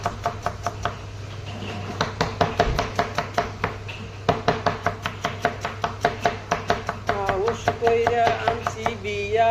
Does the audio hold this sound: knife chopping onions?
yes